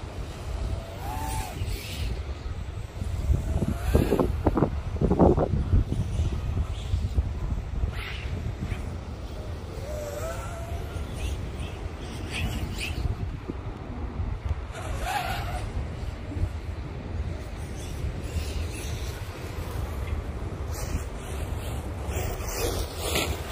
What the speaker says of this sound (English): Boy, Angel got his car out here. I can hear it